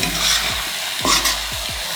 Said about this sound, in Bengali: এই যে শুকনা মরিচ ভাজা দিচ্ছি